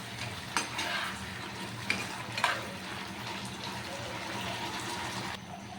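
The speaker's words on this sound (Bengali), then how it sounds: "এখন আমি কর্নফ্লাওয়ারটা দেওয়ার পরে একটু ভালোভাবে নেড়ে চেড়ে দেব।" A spoon stirs Chinese-style mixed vegetables in a pan after cornflour goes in, a soft, steady wet scraping and bubbling with a few sharper clinks, low and close.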